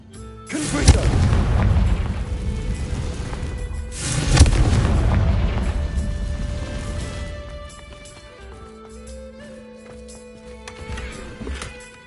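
Confringo spells in a Hogwarts wizarding video game explode in two loud, booming blasts about three seconds apart, each followed by a long rumbling decay that fades into quieter magical tones and hums.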